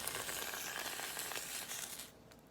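Ham frying in a pan on top of an egg, a close, steady sizzle that fades sharply near the end.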